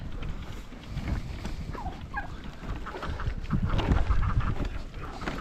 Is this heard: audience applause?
no